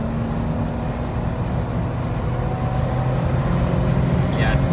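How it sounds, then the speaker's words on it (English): Jeep Wrangler JK with a 3.6 liter V6 on 35-inch tires accelerating from around 60, a steady broadband engine and road roar with tonal drone, close and continuous throughout. "now I'm just gonna hit the gas."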